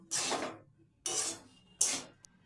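Spatula stirring roasted peanuts and raisins through dry semolina upma in a pan: three separate scraping, rustling strokes, close and clear, each fading out before the next.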